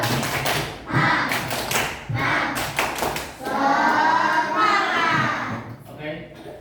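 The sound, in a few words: class doing rhythmic 'tepuk semangat' clapping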